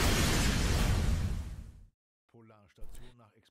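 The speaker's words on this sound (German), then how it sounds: "Polarstation nach Explosion schwer beschädigt." A loud, roaring explosion at a polar station in the video game Emergency 4 rumbles for nearly two seconds, then cuts out abruptly; after a short silence a voice speaks clearly in German.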